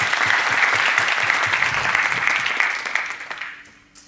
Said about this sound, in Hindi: तो जोरदार तालियां हो जाए आप लोगों के लिए।